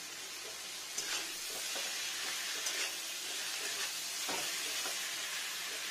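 Rohu fish pieces sizzling in hot oil in a pan for a fish curry with onion greens, a steady loud frying hiss with a few brief spits and crackles, no talking.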